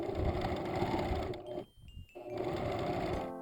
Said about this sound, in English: I sew the front earpiece to a back earpiece.